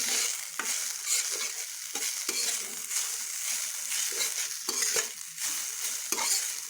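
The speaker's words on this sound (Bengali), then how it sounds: "আমি আঁচ কম করে এটা একটু ভেজে নিচ্ছি" Sago pearls frying on a low flame in a pan, a steady soft sizzle with repeated scraping stirs at roughly even intervals, close and alone with no talk.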